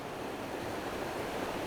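A remote Arctic river in Finnmark rushes in a steady, dense wash of flowing water, close and continuous, with some wind noise on the microphone and no voices.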